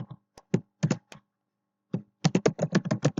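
Keystrokes on a computer keyboard typing Java code come in quick bursts of sharp, close clicks, with a pause in the middle and then a faster run of taps at the end.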